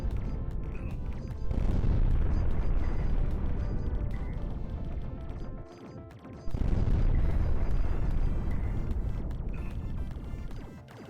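Dense, continuous explosions and rapid gunfire from The Sand Knight, a mech video game, booming and crashing without pause, with a short lull midway before the barrage resumes just as loud.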